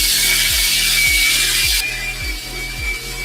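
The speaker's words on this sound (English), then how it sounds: "we're actually gonna go right back in with our drill just to see if we can knock down some more of that dirt" A drill spins a brush over dirty Military Blue Jordan 4 sneakers, a loud continuous whirring with rhythmic scrubbing pulses about every half second, close and without talk.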